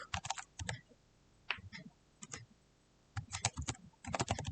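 Fingers tap a computer keyboard while entering labels into spreadsheet cells, quick irregular bursts of clicky keystrokes separated by short pauses, close and fairly quiet, with no talking.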